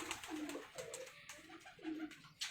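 Pigeons coo in a steady series of soft, throaty, rolling calls from fancy birds kept by a pigeon breeder, close by and repeating every half second or so, with faint background noise and a brief sharper sound at the end.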